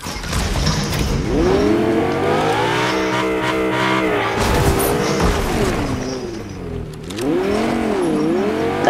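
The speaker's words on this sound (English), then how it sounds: "It's a gold car, dude." A gold car driving in Fortnite, its engine loud and close, the pitch rising and falling as it speeds up and slows, with tire squeals and a brief thump. No one talks.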